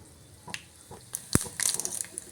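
Mustard seeds, urad dal and cumin temper in hot oil in a pan on the stove, giving a few sharp scattered pops and crackles, with one loud burst near the middle and a busier cluster of small spits toward the end.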